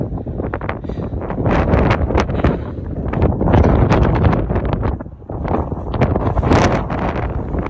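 Heavy wind buffeting a microphone in loud, rumbling gusts that rise and fall continuously during a mountain bike ride in the mountains of South Korea.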